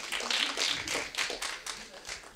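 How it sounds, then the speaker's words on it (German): Scattered applause from a small audience at a sign-language poetry slam in Vienna, distinct uneven claps pulsing in loose bursts, fairly close and moderately loud, without speech over them. "Applaus für Antonia."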